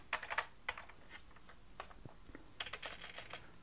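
Quiet clicks and taps from typing on a Sinclair ZX Spectrum+ home computer keyboard, a few irregular keystrokes spread out, close and soft.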